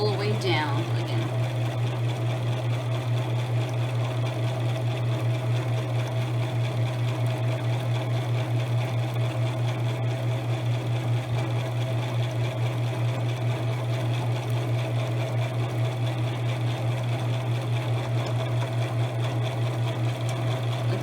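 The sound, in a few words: sewing machine stitching reversible napkins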